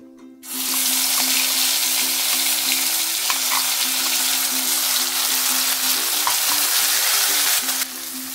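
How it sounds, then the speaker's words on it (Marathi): Bay leaf, a piece of cinnamon, hing and ground masala paste hit hot oil for a potato and pea curry, bursting into a loud, dense sizzle that holds steady for several seconds before easing slightly at the end. "हे बघा, तेल गरम झालं आहे, भाजी फोडणी देते। तेजपान, 1 कलमीचा तुकडा, थोडीशी हिंग, वाटण घालते।"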